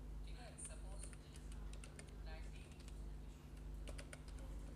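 Rapid typing on a wireless computer keyboard while entering data in Tally Prime accounting software: a steady run of close, crisp key clicks over a low background hum.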